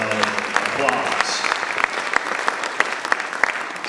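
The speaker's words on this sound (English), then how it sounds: "Let's give them all a big round of applause." An audience applauding at a retiree reception, a steady patter of claps with a few sharper, louder ones standing out, continuing throughout.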